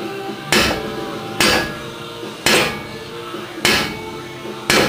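A sledgehammer strikes a steel suspension joint five times at roughly even intervals while replacing a lower ball joint and control arm on a 1996-2002 BMW Z3, each blow loud and ringing before fading.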